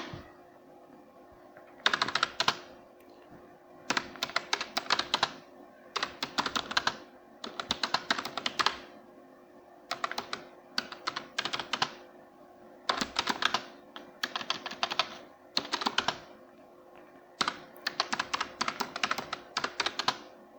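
Fingers type a resume on a computer keyboard, producing close, crisp clatters in quick bursts separated by short pauses, with no voices.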